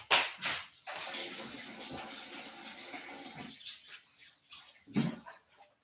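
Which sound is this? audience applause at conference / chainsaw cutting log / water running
water running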